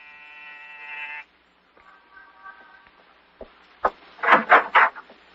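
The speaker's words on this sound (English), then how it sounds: "Pause and press the buzzer." A flat electric apartment-building door buzzer sounds for about a second, then a quieter second buzz follows, with shuffling and knocking noises after it.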